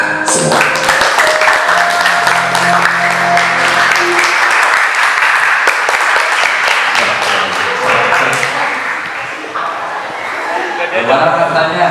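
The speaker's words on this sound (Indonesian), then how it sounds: "Kasih tepuk tangan untuk kita semua." A class wraps up a relaxation breathing exercise during a school teaching observation, and the room fills with steady group applause while voices talk over it and a dog barks now and then.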